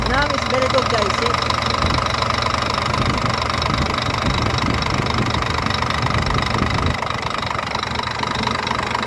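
A Scania truck diesel engine idles steadily after a faulty solenoid valve was replaced, a loud, even mid-pitched rumble running the whole time with someone talking over it.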